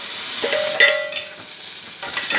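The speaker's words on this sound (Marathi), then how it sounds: "कांदा भाजलाय, बटाटे टाकून" Potatoes tipped into a pan of fried onions sizzle and crackle steadily on a home stove, with a couple of brief metallic clinks from stirring, close and moderately loud with no voices.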